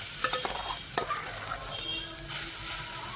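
Onions and green chillies fry in oil, sizzling steadily in a pan with a few sharp stirring scrapes and clinks, close up, with no voices.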